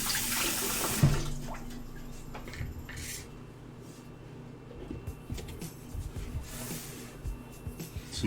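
Warm water runs steadily from a kitchen tap while pancakes are being made, a continuous close hiss with a sharper splash near the start and small clatters through the flow.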